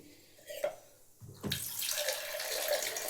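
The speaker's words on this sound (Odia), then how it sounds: "କେଟିଲ୍ର ପାଣି ଭରିଦେଲି" Running water pours into a kettle from a tap in a home kitchen, a steady splashing fill that starts after a few faint clicks and continues close and moderately loud.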